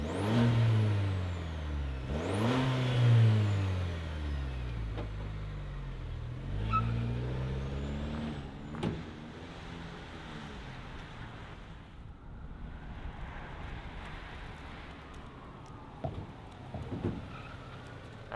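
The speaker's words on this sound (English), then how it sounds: "let's fire up this 4-cylinder turbo and hear what it sounds like" A 2025 GMC Canyon Elevation 4x4's turbocharged four-cylinder engine starts and revs several times before settling into a quieter idle, heard outdoors with some wind noise.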